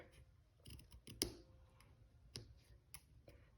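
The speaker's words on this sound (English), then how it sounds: "let's cut this one right about here" Scissors cutting through card for a handmade Christmas card: a few faint, close snips and clicks spaced irregularly, one sharper cut standing out, in an otherwise quiet room.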